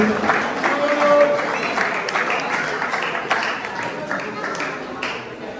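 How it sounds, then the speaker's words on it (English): Applause from the audience at a badminton tournament award ceremony for the organizing committee, moderately loud scattered clapping that gradually thins out. "Clap please for the organizing committee."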